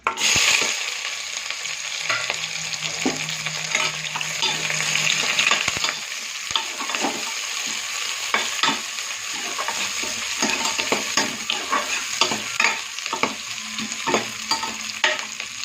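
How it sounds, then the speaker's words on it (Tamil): Onions fry loudly in hot oil for tomato rice, a dense sizzle under steady scraping and clattering of a spoon stirring the pan, heard up close and with no voices. "இப்போ நம்ம வெங்காயத்தை போடலாம்"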